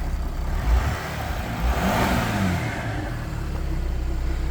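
A 2009 Audi A4 B8 allroad with a 3.0 TDI diesel is revved against a limiter near 2500 rpm, giving a steady mid-pitched drone that swells and eases, heard close with broad whooshing noise over it.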